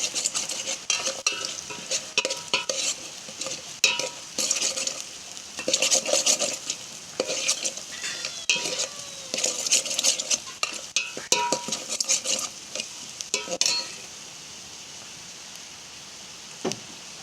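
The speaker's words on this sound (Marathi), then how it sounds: "हळद तर जादा प्रमाणात घालायला पाहिजे चांगलं मिश्रण करून घ्यायला पाहिजे" Turmeric stirred into chopped jackfruit seed vegetable in a pan: a close run of scraping, clinking utensil strokes with light sizzling, busy for about fourteen seconds and then falling away to quiet.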